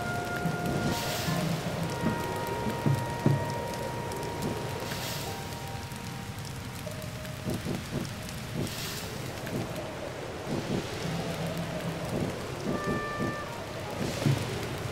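Steady heavy rain pours in The Legend of Zelda: Tears of the Kingdom while exploring wetlands, with several deep thunder rumbles rolling through and no talking.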